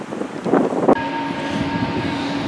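A Blackpool tram, one of the new ones, pulls in amid gusty wind noise, with a loud clunk midway followed by a steady electric whine and hum.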